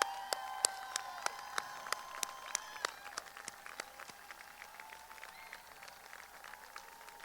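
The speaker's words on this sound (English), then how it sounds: "Stand up and let the crowd clap you." A crowd claps for students at a middle school promotion ceremony. Separate sharp claps ring out at an uneven pace over a faint, steady hum in a large hall, and no one speaks.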